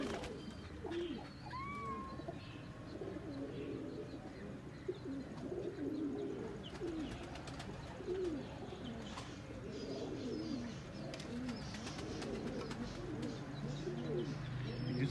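Rampuri and Ferozepuri baby pigeons, five young birds, give low repeated coos and soft calls close by, over a steady background hum with occasional chirps.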